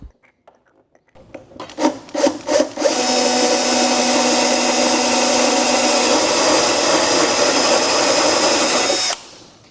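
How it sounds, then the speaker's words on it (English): A few short bursts of a power drill boring a hole in a liner on a 2024 Honda Goldwing Tour, then a steady, loud drilling run for several seconds that stops abruptly. "And our last hole we're going to drill is in the liner itself."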